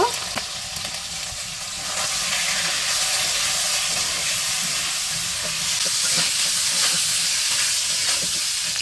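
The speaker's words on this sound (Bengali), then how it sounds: "সামান্য হলুদ সামান্য লবণ দিয়ে মাংসটা ভেজে নেব" Chicken pieces frying in hot oil with turmeric and salt, a loud, steady, hissing sizzle that swells after the first couple of seconds and runs on unbroken, with faint utensil taps scattered through and no speech.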